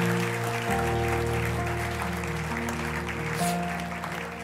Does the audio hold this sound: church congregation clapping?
yes